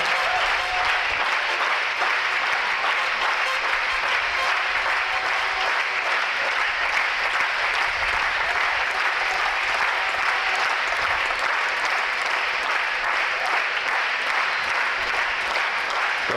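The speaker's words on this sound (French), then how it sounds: "On acclame Papa Jésus pour elle." A church congregation applauds steadily and loudly for the whole stretch, a dense unbroken wash of clapping from a large crowd.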